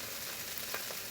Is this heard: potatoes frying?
yes